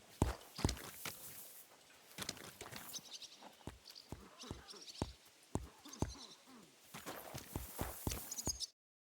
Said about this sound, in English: So kindly take a look at him in the stable here